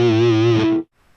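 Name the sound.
guitar overdrive effect on Line 6 POD HD500X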